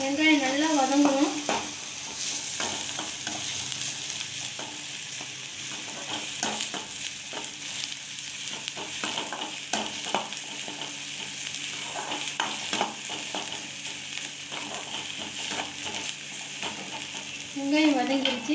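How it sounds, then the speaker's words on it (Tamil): Chopped onions sauté in hot oil for egg gravy, giving a continuous close sizzle with occasional stirring scrapes, and a voice is heard briefly at the start and end. "வெங்காயம் நல்லா வதங்கணும்."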